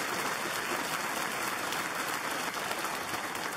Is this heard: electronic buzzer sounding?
no